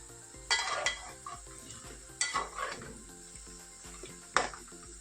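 Gram flour for ladoos cooks in oil in a pan over a low flame, stirred now and then; a spoon scrapes and knocks the pan in a few close strokes over a soft, steady sizzle.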